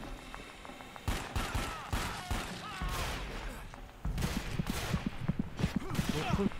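Machine gun fire from the video game Dark Sector, rendered as repeated broadband bursts of rapid gunshots that grow denser and more continuous in the second half, with game voices and effects mixed in.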